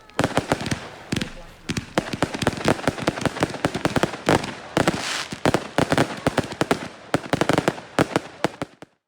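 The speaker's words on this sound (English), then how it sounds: "And then they put on a really nice firework display for us as well" A village firework display goes off in rapid sharp bangs and crackling bursts, dense and irregular, loud and fairly near throughout.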